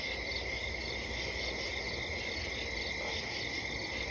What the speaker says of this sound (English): I hear the crickets on the recording and the crickets